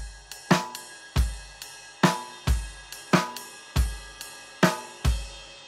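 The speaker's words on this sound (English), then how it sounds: "what happens later on in the song is instead of a buzz, it becomes a snare on the second part" Drum kit playing a steady verse groove from a song tutorial: deep kick drum hits paired with sharp snare strikes in a repeating pattern, loud and close with no talking.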